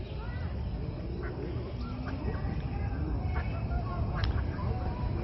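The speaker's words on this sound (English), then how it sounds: "Got ducks, with little ducks right up here." Ducks with ducklings on a lake at Parque Chapultepec in Mexico City, scattered quacks over a steady rush of park ambience and distant crowd noise.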